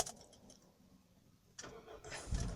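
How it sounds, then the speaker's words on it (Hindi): A 2010 or 2011 Toyota Corolla XLi being started, quiet cabin rustle and faint key handling before the engine cranks and catches about halfway through, rising to a louder running rumble. "तो मैं गाड़ी को करता हूँ स्टार्ट।"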